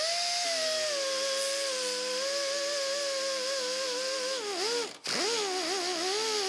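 A power sander fitted with an orange pad and 80-grit paper works a 1972 Camaro car door, a loud steady whine with a slight wavering pitch, briefly dipping when pressure changes before spinning back up.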